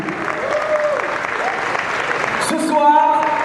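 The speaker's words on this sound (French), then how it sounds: "Applaudissez une fois encore pour vous" A crowd at the Calebasse international festival show at the University of Lomé claps continuously, with an announcer's voice and some sustained tones running over the applause and a sharper burst of sound near the end.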